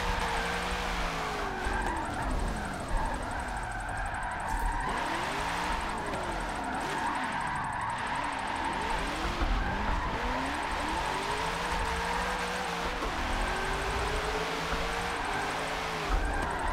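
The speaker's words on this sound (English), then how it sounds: "we're just throwing this Camaro right now" Camaro sliding sideways in a tandem drift session in the racing game Forza 7, with long wavering tire squeals and skids over a steady engine drone, loud and continuous throughout.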